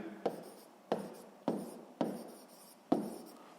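A pen or pencil writes a floor area formula by hand on paper, making five short, quiet scratching strokes at roughly even intervals, each fading quickly, with no talk.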